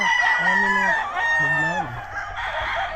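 A fighting rooster at a gamefowl farm crows loudly and close, a long drawn-out cock-a-doodle-doo with rising and falling tones that fills the clip, followed by softer clucking at the end.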